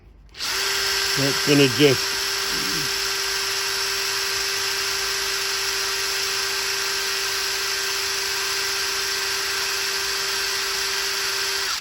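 A power drill drilling out a screw on a brick hammer runs in a loud, steady, close whine throughout, with someone speaking briefly over it early on.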